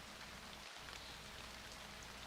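Steady rain sound effect from an audiobook scene, a soft continuous hiss of falling drops, faint and even throughout with no voices.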